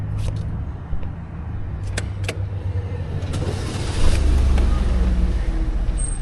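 Chevy 2.4L engine running with a freshly replaced alternator, a low steady idle with a few sharp clicks and knocks, then a slight rise in revs near the end, close by.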